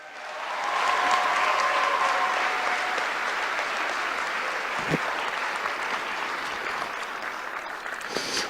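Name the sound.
audience applause for sponsors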